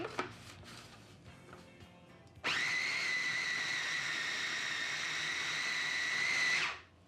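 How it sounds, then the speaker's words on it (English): Food processor grinding raw shrimp for potsticker filling, switching on abruptly after quiet kitchen clatter and whirring at a steady high pitch for about four seconds before spinning down. "put our shrimp in the food processor. We wanna grind that up."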